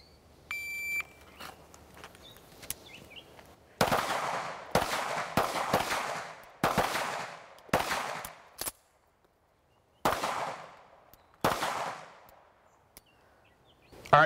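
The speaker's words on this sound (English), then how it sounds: "next course of fire, 15 yards, five rounds. You have 7 seconds." At a 15-yard pistol standards drill, an electronic shot timer beeps, then a pistol fires five loud, sharp shots in quick succession, with several other nearby shots echoing.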